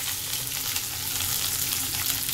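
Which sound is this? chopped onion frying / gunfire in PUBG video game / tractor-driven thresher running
chopped onion frying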